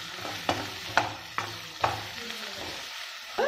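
Mutton pieces fry in a pan for a mutton sukka, with a steady sizzle broken by several sharp scrapes of stirring at roughly regular intervals, close and moderately loud, with no talk.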